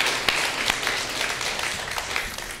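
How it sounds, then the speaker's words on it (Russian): A studio audience on a Russian talk show breaks into applause, a dense, even patter of many hands with a few sharper claps standing out, steady through the short stretch without talk. "За это аплодисменты"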